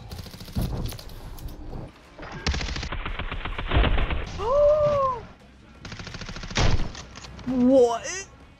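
Automatic gunfire from Call of Duty MW3 Search and Destroy cracks in several rapid bursts, mixed with game sound effects and rising electronic tones, while a voice talks over parts of it.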